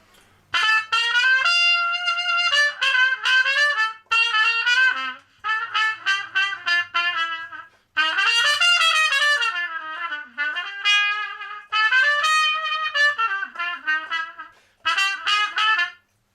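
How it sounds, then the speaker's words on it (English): A trumpet played through a mute with its stem inserted gives a nasal, comical, circus-like tone, carrying a lively solo melody of bouncing short notes and held tones, close and fairly loud, with short gaps between phrases. "Now if we add this pipe, which is called a stem"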